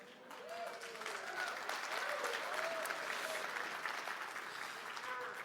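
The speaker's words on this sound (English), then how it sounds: "You can tell it's really true when they applaud because you're old" An audience applauds steadily throughout, a dense wash of many hands clapping at a moderate distance, with scattered voices mixed in.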